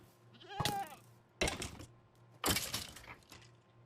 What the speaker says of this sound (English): Hi, goat, ram, whatever you are.